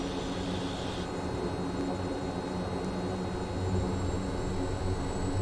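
A Kodiak turboprop aircraft in Microsoft Flight Simulator applying reverse thrust, a steady broadband engine roar with a constant whine, swelling slightly toward the end.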